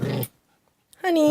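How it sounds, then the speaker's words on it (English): A pet dog growls in two brief, close bursts separated by a short silence, while a person's voice is heard alongside. "That was my dog."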